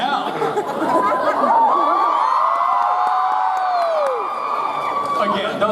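A convention audience at a panel shrieks and whoops together in a loud, sustained burst of high crowd screaming and cheering.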